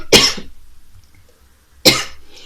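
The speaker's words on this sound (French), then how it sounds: "à chaque fois que je fais des vidéos, je tousse" Two loud, close coughs about two seconds apart, with quiet room noise between them.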